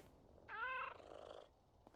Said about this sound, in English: Let's pet our cats,